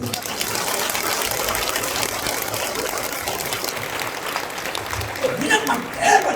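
Church congregation at a revival meeting applauding, a broad steady wash of clapping throughout, a voice heard briefly toward the end.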